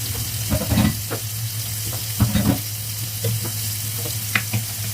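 Close, steady sizzling of shallots, ginger and garlic frying in hot oil, with occasional scrapes and stirs of a utensil against the pan.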